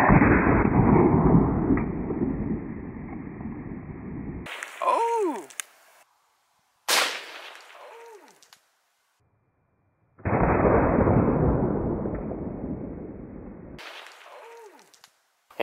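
A .22 Long Rifle rifle firing a CCI Stinger round at a soda can outdoors, sharp loud cracks standing alone among long stretches of steady background noise and brief silences.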